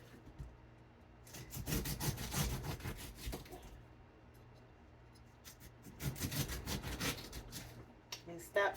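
A knife saws through the tough skin of a pineapple in two bursts of rough, rasping strokes, close and fairly faint, separated by a quiet pause.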